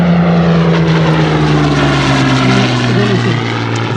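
Hawker Hurricane propeller fighter flying in an air display, a loud, close piston engine drone with a steady propeller hum and shifting pitch as the aircraft passes.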